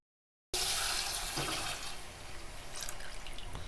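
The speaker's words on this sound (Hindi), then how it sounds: "तो चले अब मैं इसमें वो बेसन वाला मिक्सचर जो बनाया हुआ है वो डालूंगी।" Liquid gram flour (besan) mixture pours into a pot of fried spices for kadhi, a wet splashing rush that starts abruptly, then trickles and splashes on steadily, up close, with no talking.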